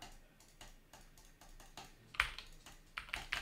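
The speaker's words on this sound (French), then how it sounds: "20 heures sur le PC en train de cliquer comme ça." Clicking and typing on a PC keyboard, with quiet key taps that grow into sharper, louder bursts of clicks toward the end, heard close up with no talking.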